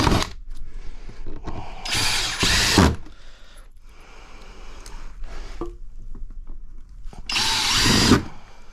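A power drill drives screws into wooden deck boards on a rebuilt garden-plot platform, with three loud whirring bursts of several seconds each and quieter handling noises between them.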